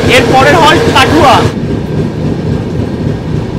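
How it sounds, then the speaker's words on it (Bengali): A train arrives at Kathua on the line to Jammu, its loud steady rumble running throughout while a voice talks over the first half. "ট্রেন এসে পৌঁছে গেল কাঠুয়া"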